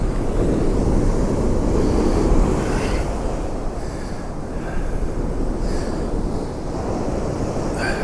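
Strong wind buffets the microphone on the sea shore at Kilnsea on the East Coast, with a loud, continuous roar of surf and gusts.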